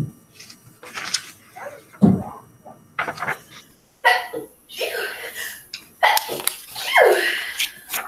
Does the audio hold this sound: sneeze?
yes